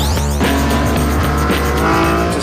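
A hardcore BMW road car cornering hard on an Isle of Man road, tires squealing loudly as the engine roars close by, a sustained screech with shifting engine tone.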